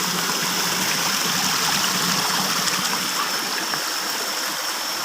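Rain-fed stream running through forest, a steady, full rushing and trickling of water that holds an even loudness throughout, close and continuous with no voices.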